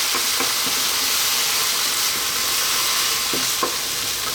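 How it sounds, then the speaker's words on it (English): Chopped canned tomatoes go into a pan of ground chicken sauce, giving a loud, steady sizzle and hiss with a few soft stirring knocks throughout. "now I'm going to add that 1 can of tomatoes, which I've chopped, as you can see"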